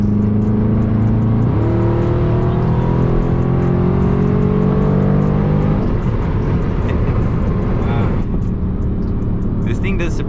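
A 2020 Dodge Charger 392 Scat Pack Widebody accelerates hard, heard from inside the car: a loud, deep engine roar climbs in pitch, drops briefly at a gear change, then keeps rising, with voices talking over it.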